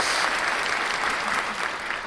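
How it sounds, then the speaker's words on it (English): Steady applause, a dense wash of clapping at moderate loudness that holds evenly throughout without any voices, fitting a crowd's ovation after a speech. "Let me give that my own applause."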